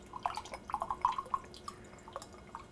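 Red wine vinegar poured from a bottle into a measuring cup, heard as a short, quiet run of liquid glugs and trickling drips, close up.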